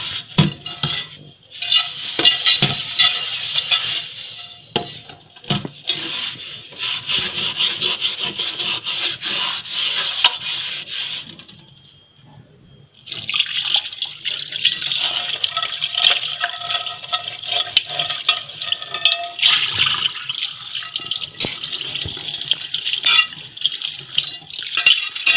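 A new pot is scrubbed with soap and a coir scrubber, then rinsed: steady, loud, close rasping scrubs that pause briefly midway and resume, with splashing water running alongside.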